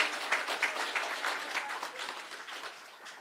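An audience at a donation event for Mombasa County emergency household relief gives a brief burst of applause, steady and moderately distant, fading slightly over a few seconds.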